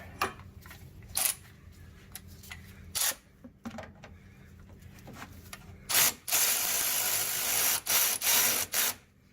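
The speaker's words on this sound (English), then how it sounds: "we'll just torque that down" Tool clicks and clatter from a rear sway bar link nut being torqued down, a few sharp taps early on, then a loud burst of ratcheting and rasping that fills the last few seconds, close to the mic.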